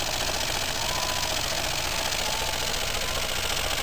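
A Jensen 20 toy steam engine running near 900 RPM on two boilers with 500 watt heaters gives a steady, dense mechanical whir and hiss, loud and unbroken, with no voices.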